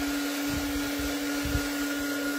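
A hair dryer blows over a handmade gift box craft project, a steady continuous whine and rushing airflow close to the microphone, with no talking.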